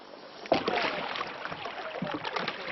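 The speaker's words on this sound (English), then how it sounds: "Matt, just paddle." Paddles dipping and splashing as a boat is paddled along a river in the Amazon, with soft irregular strokes and water rushing close by, no talk.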